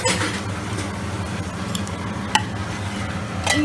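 Marinated prawns are stirred into a simmering onion-based prawn gravy curry, giving a soft steady sizzle with wet squishing and occasional light clinks of a utensil against the pan.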